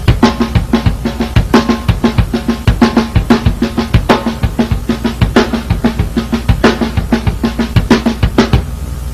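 A drum kit plays a steady beat: bass drum hits alternate with left-hand snare backbeats in a driving, even rhythm, loud and close, with no voices.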